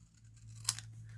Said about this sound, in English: And I want to take my scissors.